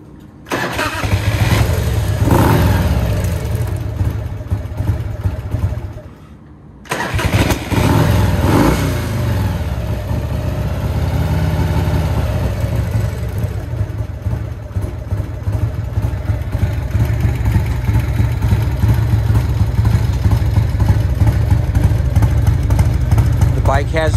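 A 1993 Harley-Davidson Heritage Nostalgia with a Kirker 2-into-1 fishtail pipe and high lift cam cranks, stalls briefly, then fires and settles into a loud, lumpy close idle with occasional revving.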